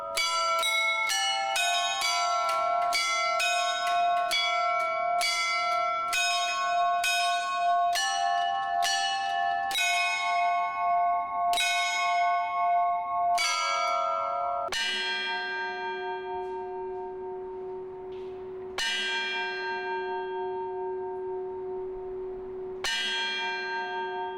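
Church bells in Kyiv, including an eight-ton bell, ring the state anthem at noon: a clear melody of many ringing strikes, with deeper tolls and long decays toward the end, no voices.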